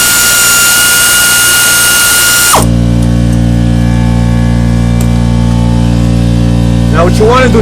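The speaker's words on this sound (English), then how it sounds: "that's my air compressor over there working" Air compressor running nearby in a workshop during a steering gear box replacement, a loud steady mechanical drone that shifts pitch partway through and continues throughout.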